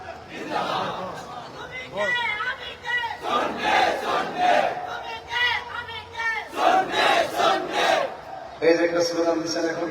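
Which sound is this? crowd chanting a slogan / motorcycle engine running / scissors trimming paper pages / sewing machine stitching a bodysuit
crowd chanting a slogan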